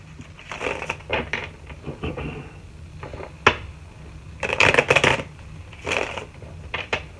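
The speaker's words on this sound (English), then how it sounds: "Alright, let's shuffle the deck." Cards are shuffled in several quick riffling bursts with brief pauses between, close and crisp with no talking.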